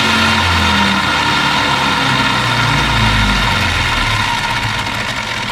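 Brushless motor of a Rlaarlo carbon fiber RC buggy running at full throttle gives a loud, steady whirring drone that holds without a break from start to finish.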